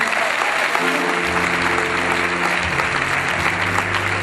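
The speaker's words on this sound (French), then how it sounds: "Que je prie d'acclamer très fort le Seigneur." A church congregation at a welcoming service claps loudly and steadily as a dense wash of applause, with a sustained low tone sounding underneath partway through.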